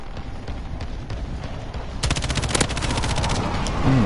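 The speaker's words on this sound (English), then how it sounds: "Enemy precision airstrike." Gunfire and explosions from a precision airstrike in a video game, a steady crackle that erupts into loud, dense rapid bursts halfway through and keeps pounding to the end.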